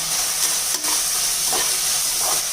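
Mint and coriander leaves sauté in a pan for biryani, giving a soft, steady sizzle with a few faint stirring scrapes, close and fairly quiet, and no voices.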